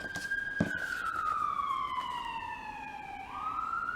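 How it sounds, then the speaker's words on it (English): An ambulance siren wails steadily, its tone sliding gradually downward as it passes by, then jumping back up near the end; it sounds moderately distant and continuous, with no speech. "Oh, there's an ambulance."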